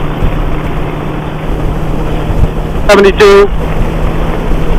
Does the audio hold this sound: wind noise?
yes